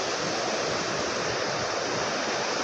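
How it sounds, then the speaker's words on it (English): Waterfalls swollen after heavy rain in the Lake District fells produce a steady, loud, unbroken rushing roar of falling water, close by and uniform throughout. "these waterfalls,"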